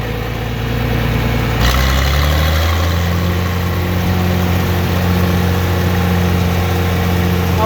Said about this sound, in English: I'll let you guys listen to this 303 gas motor here for a little bit.